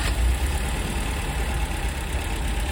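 A 1968 MGB Roadster engine runs steadily close by, a continuous mid-low idle with a slight surge at the start, no voices.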